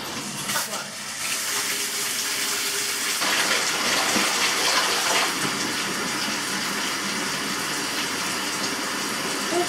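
Water gushes steadily from a tap into a tub, a loud continuous rushing that starts after a brief pause and keeps running.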